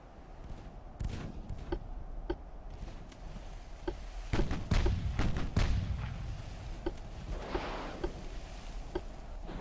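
Naval gunfire in the video game Ultimate Admiral: Dreadnoughts, HMS Belfast in battle: a series of sharp, booming shots scattered across the scene, some distant and some close, the heaviest salvo cluster coming midway, over a low rumbling background.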